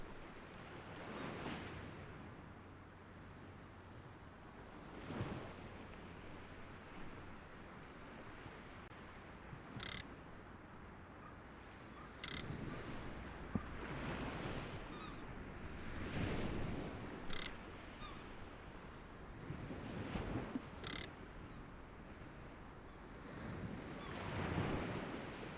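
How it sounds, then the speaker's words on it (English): Ocean waves at Tokyo Bay in the VR fishing game Real VR Fishing, soft surf swelling and washing in repeated slow surges under a faint windy hiss, a few sharp ticks standing out, no talk. "Sound of the waves is nice."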